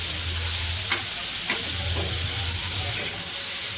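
Masala for a North Karnataka mutton gravy sizzles loudly in a pan, a dense continuous frying hiss with a few stirring scrapes.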